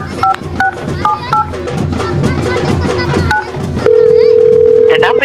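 Several short two-tone keypad beeps from a phone being dialed, followed by a long steady tone, with background noise and faint voices.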